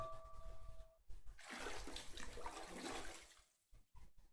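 Bath water in a video game sloshing and splashing, a soft watery swirl that swells and then fades, with brief quiet gaps and no speech.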